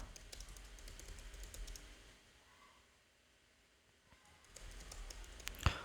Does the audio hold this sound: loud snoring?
no